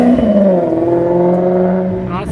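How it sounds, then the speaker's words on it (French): A Maserati GranTurismo S sports car engine revs and drones loudly at close range, its pitch sliding downward as it passes, with a rising rasp near the end. "La Gran Turismo S de tout à l'heure. Écoutez la sonorité."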